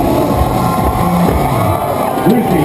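A large crowd at a motorcycle stunt show at the Calgary Stampede cheers and shouts loudly and without a break, with whoops rising over a dense roar of voices.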